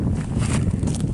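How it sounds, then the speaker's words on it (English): Steady low rumbling buffeting of wind hitting a microphone, constant and close throughout, with no voices. "Sorry about the wind, I'm trying to stay out of it."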